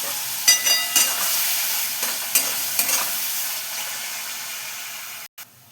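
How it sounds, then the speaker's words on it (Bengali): Mixed vegetables for a bharta fry in a pan after a splash of water, a loud close sizzle broken by several scraping stirs early on, fading slightly before a brief cutoff. "দেখো ভাজাটা হয়ে এসছে"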